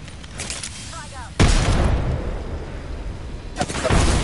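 A frag grenade explodes in a PS4 shooter game, a sudden loud boom followed by a long rumbling tail of combat noise, with another burst toward the end and voices faintly underneath.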